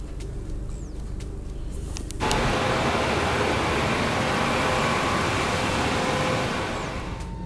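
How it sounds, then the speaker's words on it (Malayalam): An airport shuttle bus carrying passengers out to the plane, a muffled engine rumble that swells suddenly as it pulls away, then a steady loud drone inside the cabin, no talk. "ബസ്സിലാണ് ഫ്ലൈറ്റിലേക്ക് കൊണ്ടുപോകുന്നത്"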